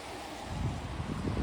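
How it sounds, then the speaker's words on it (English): Steady, blustery wind sweeps across an open waterfront area east of central Stockholm on a rainy evening, a continuous low rumble with no voices. "Weather is so bad, it's rainy and so windy"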